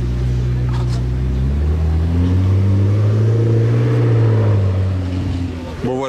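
A McLaren 650S Spider sports car engine revving in Monaco, a loud rising and falling roar with clear harmonic sweeps that climbs through the middle and eases off near the end.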